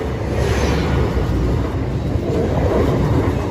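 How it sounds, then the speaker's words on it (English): A ten-carriage Class 802 Paragon train approaches on the line near Lincoln, producing a loud, continuous rumbling roar with broad wheel and rail noise that holds steady throughout. "I hear a pair of Paragons. One approaching with 10 carriages."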